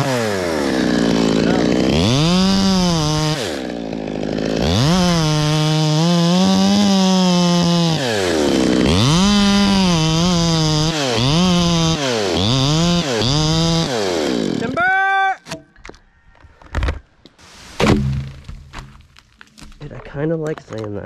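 A chainsaw cuts into fir tree wood close by, its engine rising and falling in repeated loud revving strokes through the cut, then stopping to leave scattered knocks and rustling.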